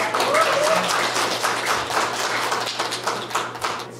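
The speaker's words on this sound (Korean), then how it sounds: "박성민 농민의 간절 한 번 더 힘차게 박수 모시겠습니다" An audience at a native seed festival in Namhae, South Korea, claps in a steady stream of dense applause that fades slightly over about four seconds.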